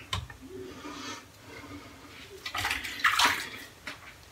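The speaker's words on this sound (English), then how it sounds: "ripping the rinse off, and there, we rinsed off" Water runs as lather is rinsed off a silver-plated safety razor, a soft splashing rush that swells near the end, fairly close with no talk.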